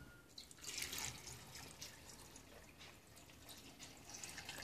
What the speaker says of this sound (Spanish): Vamos a ponerle líquido.